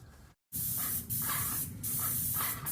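Steady spray hiss from a paint sprayer painting a patio cover, running in long bursts with a brief gap near the start and slight dips between passes.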